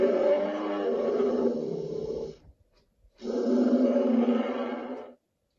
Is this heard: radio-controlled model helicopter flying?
no